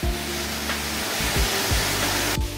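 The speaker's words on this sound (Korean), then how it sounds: "웅계 폭포입니다." The Ungye waterfall on Gamaksan, water dropping about 20 m onto rocks into a valley stream, gives a loud, steady broadband rush that fills the whole stretch, close by and with no talk.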